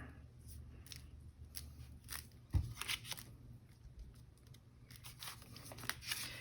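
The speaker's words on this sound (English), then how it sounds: "Let's trim it there and see if that works." Scissors trimming paper for a vintage flower prayer tag journal, a string of quiet crisp snips and rustles with one louder thud partway, close-up, no talking.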